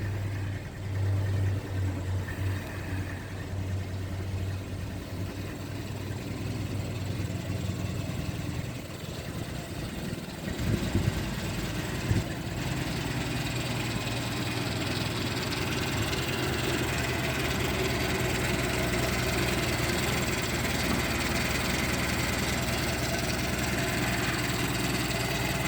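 A Renault 12 TS phase 2 car idles with a steady low engine rumble and vibration, close and continuous, with a brief mechanical clunk partway through and no voices.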